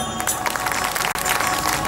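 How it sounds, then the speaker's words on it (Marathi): A large crowd at a political gathering in Jalgaon, Maharashtra breaks into loud, sustained applause that fills the space, with dense clapping and some cheering throughout, interrupted only by a momentary dropout. "इथं जोरदार टाळ्या होत्या साहेबांसाठी"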